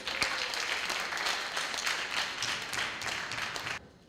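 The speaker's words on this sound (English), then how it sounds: "Can I have a round of applause for them?" An audience at a panel discussion gives a round of applause for the panelists, dense steady clapping from a crowd in a hall that stops abruptly near the end.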